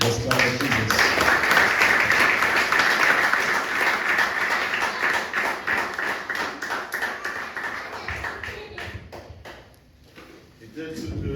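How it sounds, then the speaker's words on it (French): A church congregation claps together for Jesus during a French-English worship service, with loud, sustained, fast rhythmic applause from many hands that fills the room before fading near the end, with voices mixed in. "Let's clap for Jesus."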